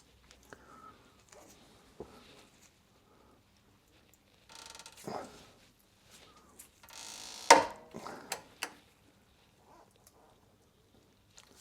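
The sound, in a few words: 17 mm deep socket wrench on Jaguar XK8 drop link bolt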